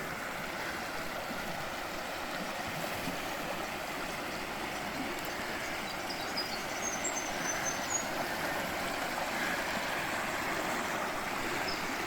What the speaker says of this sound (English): Bit of flow through the middle there.